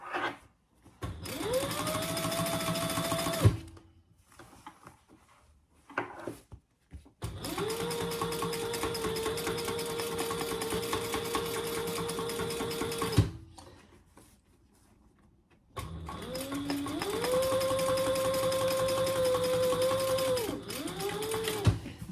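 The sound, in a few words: sewing machine triple-stitching vinyl laptop bag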